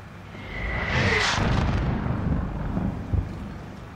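Mortar fire in Call of Duty Modern Warfare: a deep rumbling blast swells and rolls for a few seconds, heavy and booming, with a brief sharper thump near the end and no talk.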